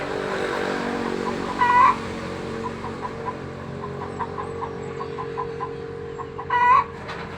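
Chickens cluck and a rooster gives two short crowing calls a few seconds apart, moderately near, over a low steady rural background hum with no talking.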